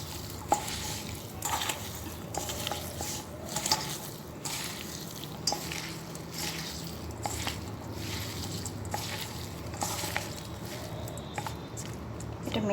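Raw soybeans are hand-mixed with mustard oil, giving a continuous wet squelching and slapping with many small irregular clicks, close and moderately quiet.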